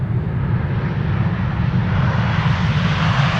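A KLM airliner in the 100-years livery lands at Amsterdam Schiphol Airport on a sunny winter day, its engines producing a steady, loud, broadband roar with deep rumble throughout, no voices.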